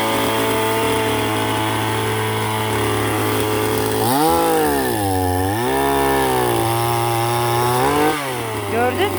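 A chainsaw cuts wood in a Kastamonu village, droning at a loud idle and then revving up and down as it bites into the log, with faint talk under the engine.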